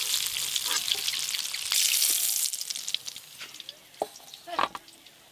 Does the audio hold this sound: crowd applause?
no